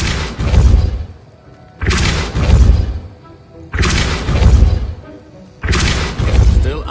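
Depulso, a force-pushing spell in the video game Hogwarts Legacy, is cast four times in a row, each one a loud, booming blast with a heavy thud, separated by short pauses.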